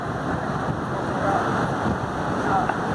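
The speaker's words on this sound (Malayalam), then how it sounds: "നല്ല കാറ്റാണ്, നല്ല കാറ്റുണ്ട്" Strong wind at the top of the lighthouse watch tower at Kovalam beach, a steady rushing gust blowing across the microphone, with the sea faintly beneath it.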